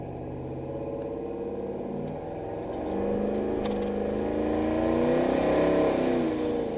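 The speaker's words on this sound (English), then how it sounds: "I got like quarter throttle in second and it shoots to fucking 50 miles an hour" A supercharged pickup truck accelerates hard in second gear, its engine drone climbing steadily in pitch and swelling in loudness, heard from inside the cab with no talking.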